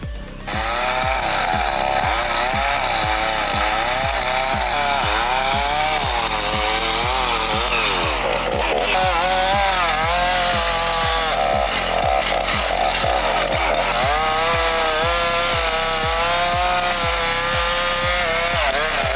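A chainsaw cutting into a tree log outdoors: the engine roars loud and close without a break, its pitch wavering as the blade bites and rubs against the wood, with no voices.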